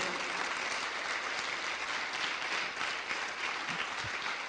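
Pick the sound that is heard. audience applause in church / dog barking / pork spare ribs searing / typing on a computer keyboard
audience applause in church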